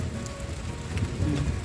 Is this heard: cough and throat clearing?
no